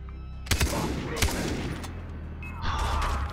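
Rapid gunfire rattles in the Far Cry 3 video game, with a sharp burst near the start and another shortly after, then a rolling, fading echo of shots.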